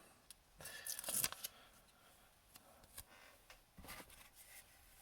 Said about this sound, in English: So the ferroflex again is self-adhesive. We'll just peel off the